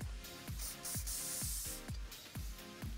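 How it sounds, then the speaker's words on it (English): A can of hairspray gives a short hissing spritz onto braided hair close by, one sustained airy burst in the middle over a background of steady low pulsing, no talk. "just going to give this a quick spritz of hairspray"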